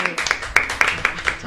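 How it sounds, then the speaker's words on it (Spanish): An audience claps after a piano and verse performance, a brief burst of light rhythmic applause from a small group, close and fairly quiet. "Vamos a aplaudir."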